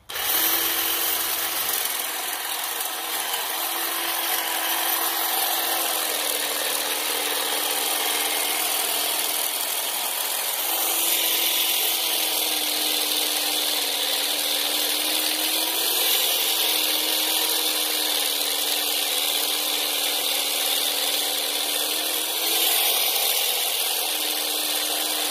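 Powered hedge trimmer cutting through a garden hedge during early-morning yard work, a steady loud motor drone running without pause for the whole stretch, close by with no talking.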